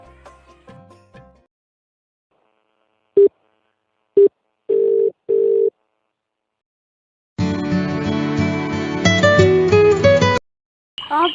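A telephone call to a girlfriend begins with several short separate tones, then stops and is followed by a long loud stretch of ringback music, with a brief burst of sound at the very end.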